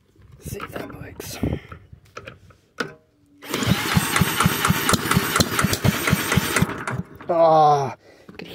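A Villiers Mark 10 side valve engine is cranked and sputters briefly without catching, a rapid knocking run of a few seconds between scattered handling noises and short bursts of talk.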